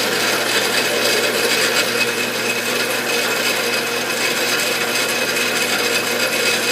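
A lathe-like machine spins a cast pewter cup on a mandrel while it is cleaned up, giving a continuous, fairly loud whirring rub with steady grinding texture throughout and no voices.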